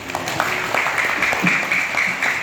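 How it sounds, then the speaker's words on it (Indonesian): Students on a madrasah visit to the historic Nur Sulaiman Great Mosque in Banyumas clap together, a steady dense patter of hands filling the room at close range, with no voice over it. "Ya, tepuk tangan boleh."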